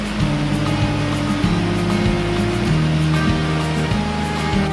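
Water of the Narmada River pouring over the Bhedaghat falls among white marble rocks, a steady, loud, dense rushing roar with no pauses, heard alone.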